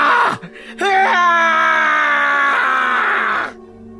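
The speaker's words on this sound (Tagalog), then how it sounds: "Isang malakas at nakakakilabot na sigaw ang umalingaw-ngaw para sa kamatayan at katapusan ng kampon ng kadiliman." A loud, terrifying scream of a burning creature of darkness, an aswang. It is a single long, wailing cry that rises sharply, holds strong and close for about three seconds, then cuts off.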